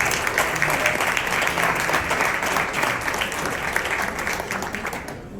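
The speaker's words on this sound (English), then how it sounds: "Give him a round of applause." Audience at a Democratic Party gala dinner applauding a local union guest, a dense, sustained wash of many hands clapping together at a steady level that tapers off near the end.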